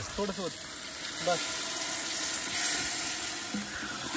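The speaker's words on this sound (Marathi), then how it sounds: "थोडस पाणी ओतायचं बाबूच्या शेंगांमध्ये" Steady rushing water, like a stream being poured, runs throughout with brief bits of talk near the start and end.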